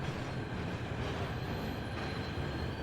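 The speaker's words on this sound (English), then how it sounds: "The train is still functioning? I thought the trains were all down." A train runs steadily in the Warhammer 40k: Rogue Trader video game, a dense continuous rumble with a rolling rail roar that holds at an even, fairly loud level throughout with no voices.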